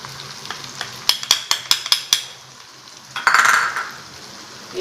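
Chili powder and spices fry in a pan with a low sizzle, while a spoon clinks sharply against the pan about six times in quick rhythm, then the sizzle rises in a brief, hissing burst.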